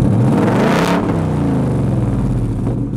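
A 2020 Roush Stage 3 sports car exhaust revs hard, the engine note climbing and holding a loud, throaty roar with no one talking.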